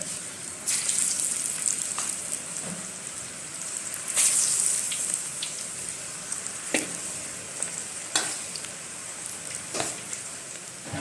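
Aloo pakoras frying in hot oil in a wok, with a dense, steady crackling sizzle and scattered sharp pops and ticks, close and continuous with no talking.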